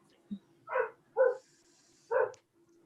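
Dogs barking: a short yip followed by three separate close barks spaced about half a second to a second apart, alone with no talk.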